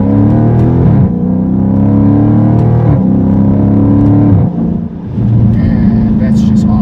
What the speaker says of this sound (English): When you downshift, we're rev matching. Rev matching sounds really good.